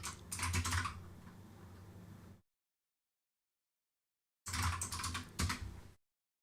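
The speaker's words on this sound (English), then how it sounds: "It's just a Huntsman Mini, like Razer Huntsman Mini clickety clackety keyboard." Rapid clicky typing on a Razer Huntsman Mini mechanical keyboard comes in two close bursts separated by a couple of seconds of silence, each burst a quick flurry of keystrokes.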